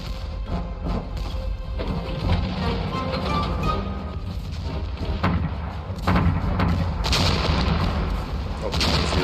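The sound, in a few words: New Zealand artillery firing in a war documentary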